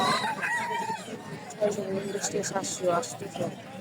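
Chickens cluck and a rooster crows amid a busy crowd at a poultry market, with people chattering nearby throughout.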